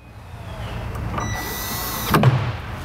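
A power drill drives screws into the top frame holes, whirring steadily at close range with a rising pitch and ending in a short loud burst as a screw seats.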